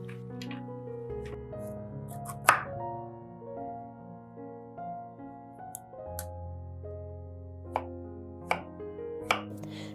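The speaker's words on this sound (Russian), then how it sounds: "Тыкву разрезаю, удаляю семена, очищаю от кожицы, нарезаю крупным кубиком." A knife chops through firm raw pumpkin into large cubes on a board in sharp, spaced cuts over soft background music.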